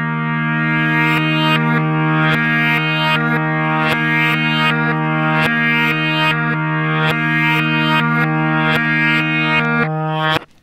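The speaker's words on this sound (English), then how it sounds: "And backwards, it sounds." Droning electric guitar part for a song's outro played in reverse, notes swelling in backwards with a steady held low tone, loud and continuous, cutting off abruptly at the end.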